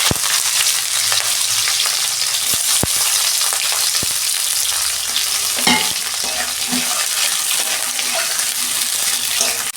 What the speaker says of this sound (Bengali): ওই তেলে আমি কুঁদরিটাও ভেজে নিচ্ছি।